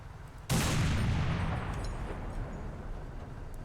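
A single heavy boom from the 107mm cannon of a KV-2 tank in War Thunder, a sudden loud blast followed by a long rumbling decay, with no voices.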